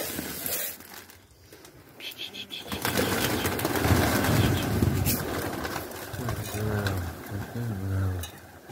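Pigeons cooing nearby in soft, low repeated calls, with occasional wing flutters and someone talking over them.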